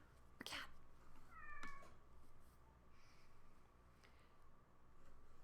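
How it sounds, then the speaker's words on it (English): A cat in the video game Kentucky Route Zero meows once, short and fairly clear, after a sharp click, with faint follow-up mews over quiet ambient background. "A cat."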